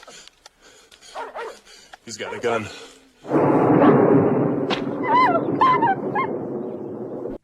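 Tracking dogs in the first Rambo film bark and yip in the forest, with whimpering and a sustained burst of frantic barking in the second half, while a voice speaks briefly over the noise.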